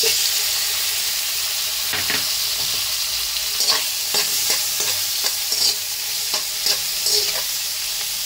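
Chicken with garlic and pepper sizzles in a hot pan for a Filipino sotanghon guisado, a steady loud frying hiss broken by scraping and tapping as the pieces are stirred, close up with no voices.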